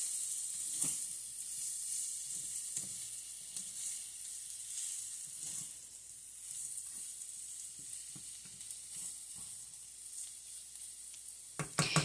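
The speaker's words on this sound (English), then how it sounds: "now I'm going to add the ground turkey back into the potatoes. And I'm going to mix that all up" Ground turkey and potatoes sizzle quietly in a pan on low heat while being stirred together, a soft continuous hiss broken by scraping and stirring taps, with no talking.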